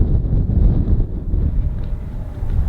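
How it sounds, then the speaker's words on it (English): Strong wind gusting across a wide open campground at an Airstream rally, buffeting the microphone with a loud, constant low rumble and no voices. "it's still pretty windy"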